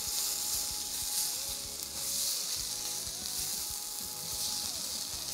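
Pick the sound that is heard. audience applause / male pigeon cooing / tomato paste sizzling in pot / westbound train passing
tomato paste sizzling in pot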